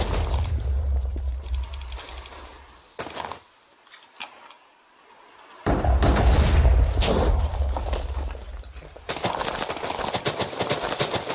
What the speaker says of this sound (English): Detonated balls, blow it all to smithereens.